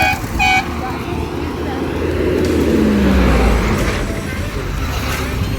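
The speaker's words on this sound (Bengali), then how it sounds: "দূরে একটা বাস আসছে" A bus on the road approaches from a distance, its low engine rumble swelling steadily through the middle of the clip over constant traffic noise, with a brief horn-like tone near the start.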